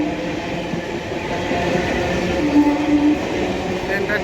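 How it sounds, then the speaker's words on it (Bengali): A train rolls into a station platform on the Sealdah route with a loud, continuous rumble of wheels and carriages. A short, squealing brake tone rises partway through. "ট্রেনটা ঢুকে গেছে"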